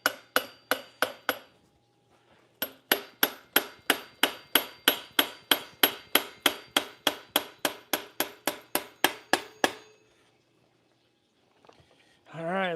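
A part being tapped into a Standard Byke's Trail Boss bicycle frame with a hammer: a run of sharp, evenly spaced metallic taps, a short pause, then a longer steady series of close taps before it falls quiet.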